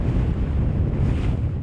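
Strong wind gusts over a lagoon during a paddling race, a dense, continuous roar buffeting the microphone with no voices.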